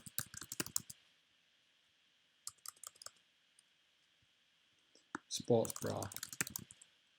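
Fingers type on a computer keyboard in quick bursts of light clicks at the start, briefly in the middle, and again near the end, where a voice speaks over them in an otherwise quiet room.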